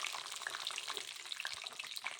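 Peanuts frying in hot oil, a steady close crackle and sizzle with scattered sharp pops and spits throughout.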